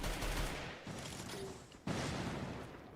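Sustained gunfire in the mobile game Free Fire during a tournament match, a dense continuous rattle of shots with a sharp new burst near the end, loud and close.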